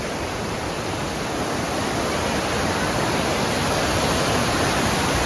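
A waterfall in Nikko, Japan, gives a steady, dense roar of falling water that stays loud and even from start to finish, with no voices.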